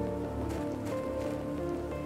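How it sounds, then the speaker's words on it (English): Rain falls steadily in the survival game Planet Crafter, making a dense, even hiss of drops on surfaces with no breaks and no voices over it. "It's raining!"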